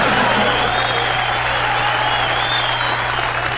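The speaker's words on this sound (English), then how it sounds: "I don't know why you guys are applauding enthusiastically." Studio audience applauding enthusiastically, a loud, sustained roar of clapping and crowd noise that continues unbroken throughout.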